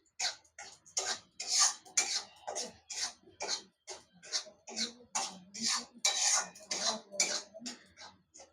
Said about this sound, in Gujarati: અને હલાવતા રહેવાનું છે તો તળિયે બેસે નહીં